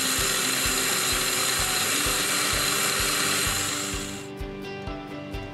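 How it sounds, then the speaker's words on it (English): A loud, steady mechanical whine of a machine drilling clock parts in metal with a regular rhythmic thump beneath, cutting off near the end and leaving quieter tapping. "the other tapping holes were drilled, using the wheel holes as a drilling template"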